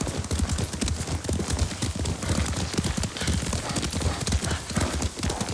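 A horse ridden in Ghost of Tsushima: loud, close, rapid clip-clop of hooves in a steady galloping rhythm throughout, with a brief whinny and faint game ambience beneath.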